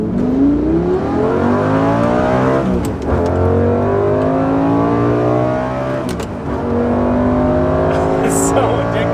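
A 2006 Lamborghini Gallardo with a six-speed manual accelerates hard, its engine note climbing steadily through the revs in long sweeping pulls, briefly dipping at shifts before rising again, loud and close from inside the car.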